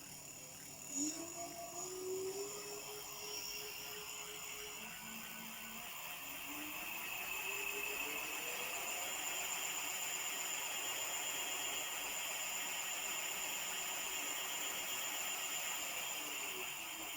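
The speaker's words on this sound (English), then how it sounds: "let's see if the motor works" A bike motor on a custom-built bike runs on test, giving a faint, thin whine that rises in pitch as it spins up and then settles into a steady hum.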